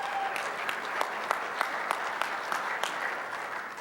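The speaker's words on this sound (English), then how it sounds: "You can applaud Mary Beth." Audience clapping at an athletics hall of fame ceremony, a moderately dense applause with distinct individual claps popping out in a loose rhythm, heard from within the room without speech.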